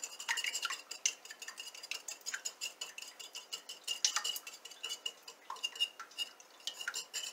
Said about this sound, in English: Next, we're going to stir.